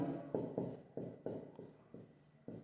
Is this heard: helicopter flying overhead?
no